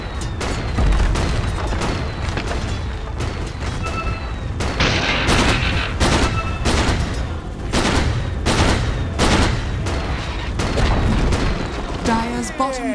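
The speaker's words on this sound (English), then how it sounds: "Radiant's middle tower is under attack." Dense Dota 2 tower battle with rapid booming impacts and bursts of gunfire-like shots, loud and continuous for the whole stretch, with crackling spell effects and a rising chime near the end.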